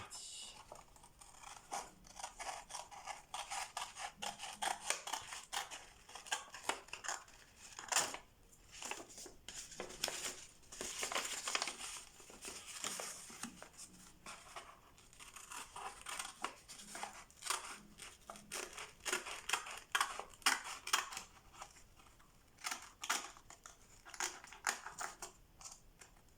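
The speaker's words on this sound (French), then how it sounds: "Première étape, découper les bords de l'enveloppe." Scissors cut along the edges of a paper envelope, a long run of close snipping and crisp rustling paper with uneven pauses as the blades work around the sides.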